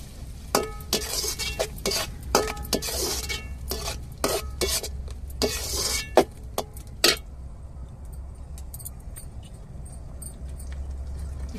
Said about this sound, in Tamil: சின்ன வெங்காயத்தையும் சேர்த்துக்கிடுவோம். நல்லா வதக்கி விட்டுக்கிடுவோங்க.